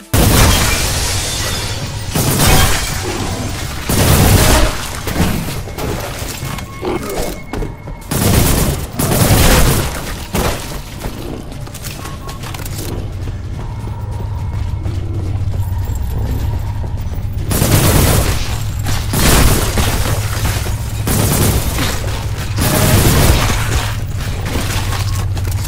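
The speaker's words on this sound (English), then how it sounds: "the grenade launcher that can be upgraded to fire more like a rocket launcher, and a plasma rifle that absolutely melts enemies" Selaco shooter combat with a grenade launcher and a plasma rifle: loud booming blasts and shattering bursts repeat every few seconds over a steady rumbling game background, heavy and close throughout.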